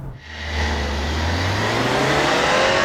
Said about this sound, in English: 184 horsepower, 221 pound-feet of torque from a 2-liter turbo 4-cylinder. That would explain the launch.